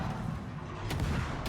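Secondary guns on the battleship Bismarck fire in World of Warships, distant booming shots, one clear report near the middle and another near the end, over a low rumbling battle backdrop.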